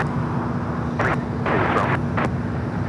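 An airliner powering up for takeoff from runway 25 left at LAX, a continuous broad engine roar with a steady low hum and intermittent rushing bursts, heard at moderate distance with brief indistinct radio-like voices.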